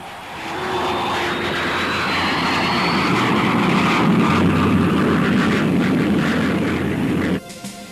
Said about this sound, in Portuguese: aviões para grandes altitudes, como este U-2 americano